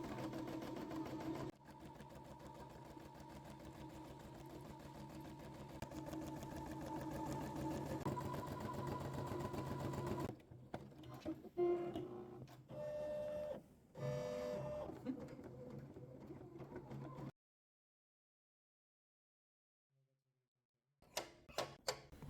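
A CAYDO embroidery machine stitching a test design on a kitchen napkin, with a steady, loud, fast mechanical whir that turns choppy and stops, then goes silent before a brief restart.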